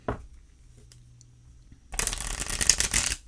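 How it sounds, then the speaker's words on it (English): A deck of I Ching Dead Moon oracle cards is riffled and shuffled close up, a dense, crisp flurry of flapping card edges after a near-silent pause with a faint tap. "They shuffle nice."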